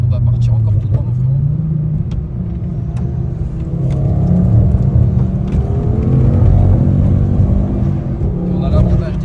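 A race car on semi-slick tyres roars steadily at speed, a loud continuous low engine rumble with slight rises in pitch as it accelerates.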